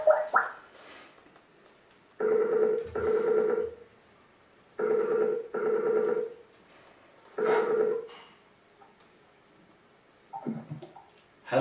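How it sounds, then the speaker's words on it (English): A telephone rings out while placing a call, four loud evenly spaced double-burst rings on the line, each separated by short silences, before a voice answers faintly at the end. "let's phone Dash and see if we can give him the good news"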